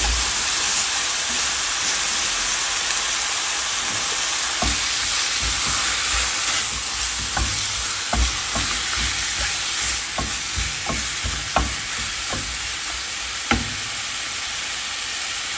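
Ground beef sizzles and crackles steadily in a hot pan, with a constant frying hiss broken by sharp pops and spatula scrapes in the second half, close and loud, with no talking.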